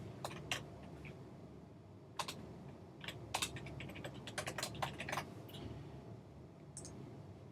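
Quiet typing on a computer keyboard while renaming a TinyDB component in App Inventor, with irregular bursts of close key clicks and short pauses, with no talking.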